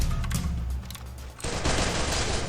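Rapid bursts of video game gunfire crackle continuously, growing denser and louder halfway through, with booming low thuds underneath.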